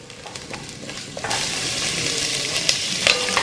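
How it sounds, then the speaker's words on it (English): Onion sautéing in hot oil in a pot for a vegan meal, giving a steady close sizzle with light stirring scrapes that swell slightly partway through; no voices. "Heat the oil in the pot, add the onion and sauté for 5 minutes."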